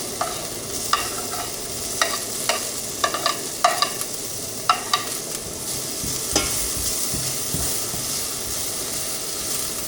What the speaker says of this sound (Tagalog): So habang ginigisa ko to